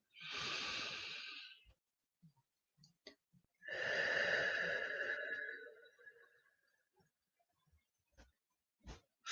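A person takes a deep breath, first a long airy inhale, a pause with a few faint clicks, then a longer breathy exhale that trails off, close and clear with no talking.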